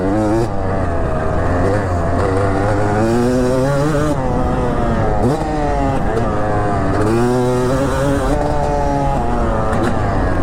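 An old two-stroke dirt bike engine revs hard and close, its pitch climbing and falling in repeated sweeping surges, loud and raspy, with rider voices faintly mixed in.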